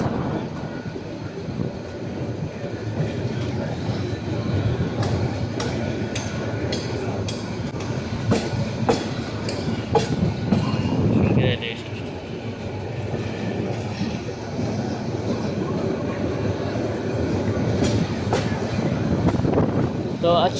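The red-and-green Kishoreganj Express rolls at Narsingdi railway station, a steady rumble with rail clatter and sharp metallic clicks, heard from close by with a person talking over it.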